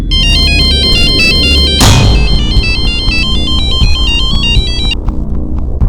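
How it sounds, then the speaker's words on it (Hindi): A loud electronic phone ringtone plays a repeating melodic pattern over a heavy low musical backdrop, stopping shortly before the end. "उसके बाद मैंने जोया को रात को फिर से फोन किया।"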